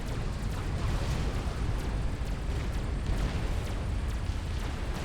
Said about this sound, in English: Such a pretty explosion.